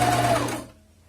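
A domestic sewing machine backstitches along a zipper, its steady motor hum running close and loud for most of a second before cutting out, followed by near quiet.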